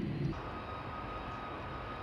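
A steady airplane engine drone from the Japanese flight simulator Jet de Go 2 on PlayStation 2, a low constant hum with a brief louder low thump at the start and no voices.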